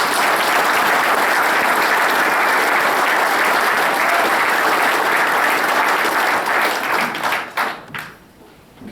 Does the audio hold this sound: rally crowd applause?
yes